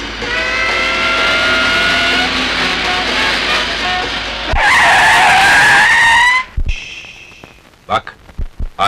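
Loud car tires skid and squeal for several seconds over a revving engine in a Turkish film scene, the screech rising sharply near the middle and then cutting off into a few sharp knocks.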